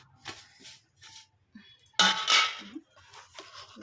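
Leftover rice being mixed with oil in a bowl, a spoon clinking and scraping against the bowl in short bursts, with one louder clattering stroke midway, close up in a quiet kitchen.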